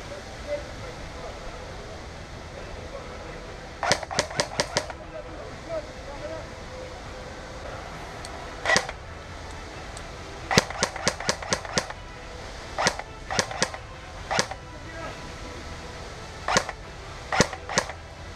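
Airsoft guns fire during an outdoor zombie-mode game, with quick rattling bursts and single cracking shots at mid distance and scattered over a steady outdoor hiss, while players talk in the background.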